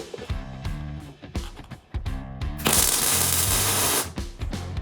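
A welder tacks the eyes onto a metal raven sculpture. A harsh, crackling burst of sizzle lasts just over a second, between softer knocks and thumps.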